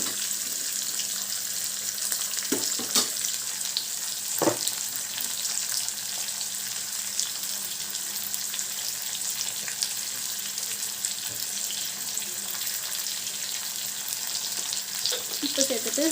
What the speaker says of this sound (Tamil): உப்பு சேர்த்துட்டு நல்லா வதக்கிக்கலாம்